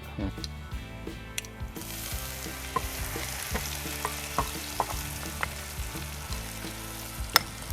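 Oil sizzles steadily in a hot pan with a crackling, spitting texture and occasional sharp clicks, like chili frying, close by and fairly quiet.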